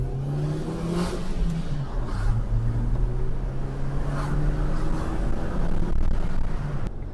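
A car's engine pulls hard through first gear and then, after a brief shift, climbs again in second, a steady, rising drone heard from inside the cabin with road noise and no talking.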